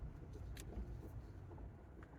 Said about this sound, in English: Got one car coming here.